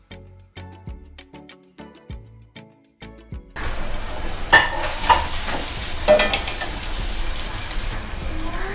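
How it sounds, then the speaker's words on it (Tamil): Achu murukku frying from an iron mould: a few seconds of sharp metallic taps come first, then a loud, dense sizzle of hot oil bubbling that runs steadily to the end. "இப்படி எல்லா முறுக்கையும் நம்ம சுட்டு எடுப்போம்"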